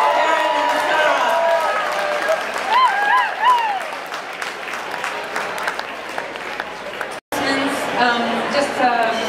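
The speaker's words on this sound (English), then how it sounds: "Could we all give a round of applause for Karyne and Sarah?" A live audience at an arts event claps and cheers after a twin duo's performance, a loud, dense wash of applause with a brief cutoff near the end, layered with crowd chatter and a voice speaking over it.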